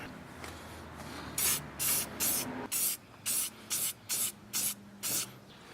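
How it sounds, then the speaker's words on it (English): Short bursts of Rust-Oleum aerosol spray paint hiss out one after another, about nine quick blasts in an uneven rhythm, with quieter rustling between. "now I'm just going to spray paint it with some Rust-Oleum"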